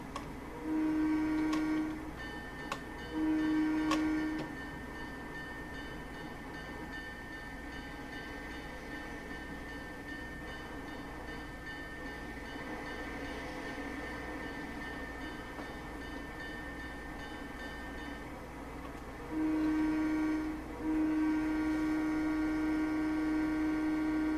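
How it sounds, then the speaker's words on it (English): A simulated train in the Trainz Railroad Simulator 2006 game rumbles past with a steady mechanical hum, broken by repeated long horn-like tones near the start and end, no voices. "As soon as my train passes, it will increase to 40 miles an hour."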